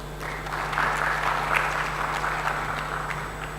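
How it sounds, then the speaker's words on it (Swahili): Audience applause at a national science, technology and innovation conference after a talk, a steady wash of clapping from a hall full of people, moderately loud and sustained without voices. "Nadhani tumpigie makofi mengine."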